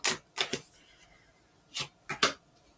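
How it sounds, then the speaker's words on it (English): A few sharp riffling bursts of cards being shuffled, spaced apart with short pauses, close and crisp. "Oh, shuffle them again."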